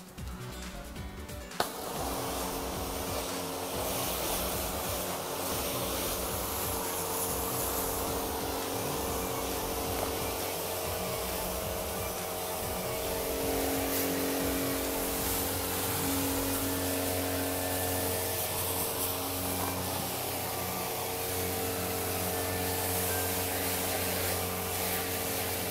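A Kärcher OC3 Foldable multi-cleaner sprays water while washing a car, starting with a short click and then a steady, even hiss of spray that runs on at close range.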